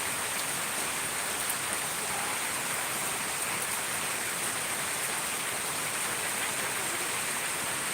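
Steady rain falls beneath dark clouds, a constant even hiss of drops heard alone with no voices, unbroken and fairly close throughout.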